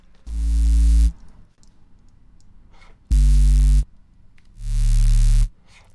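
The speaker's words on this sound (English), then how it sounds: "a squashed sine wave, squashed into like a square wave, and with a little bit of high-end buzz on the top" A loud, buzzy synth bass from the Vital synthesizer plays three sustained notes separated by short gaps, the second note higher, with a gritty square-wave edge like a squashed sine wave and high-end buzz.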